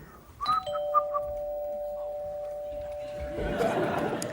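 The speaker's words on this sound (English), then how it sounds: "I'll be providing the noise, the doorbell noise, as they arrive." A doorbell rings with a bright chime, then one long sustained electronic tone, while a studio audience laughs and murmurs, the laughter growing louder at the end.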